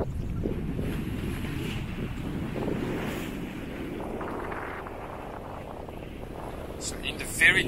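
Wind buffets a sailboat under full sail on the open ocean, a constant rough rush of gusts and water noise throughout, close to the microphone.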